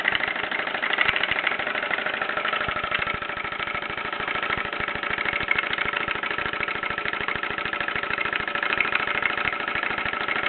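A 1930s Bowman M167 toy steam engine running, a steady rapid chuffing and ticking mechanical beat, close and continuous with an even level throughout.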